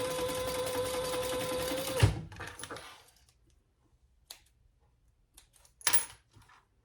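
A sewing machine runs steadily while top stitching a zippered crossbody sling bag, then stops near two seconds; clicks and brief metallic handling noises follow, with a short burst later.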